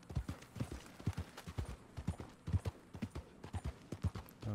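Horse hooves clip-clop at a steady walking rhythm in the Red Dead Redemption 2 video game, evenly spaced thuds at close range, fairly quiet and uninterrupted throughout.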